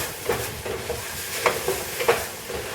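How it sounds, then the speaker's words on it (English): Apples with nutmeg stirred and sautéing in a pot for butternut squash soup, a soft steady sizzle with a few scraping spoon strokes near the middle and end. "Give that a good stir."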